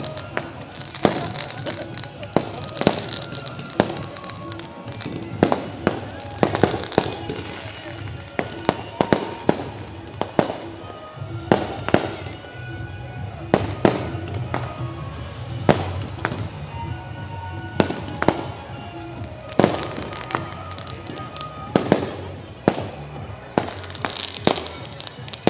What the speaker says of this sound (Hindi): आप देख सकते हैं शाम को रात के बजे जो है आतिशबाजी की जा रही है।